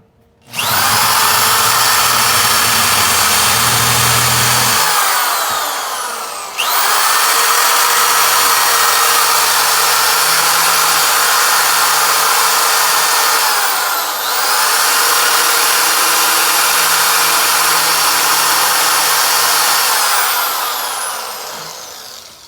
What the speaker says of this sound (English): You want to take a drill, kind of like this one, with a cone-shaped disc on the end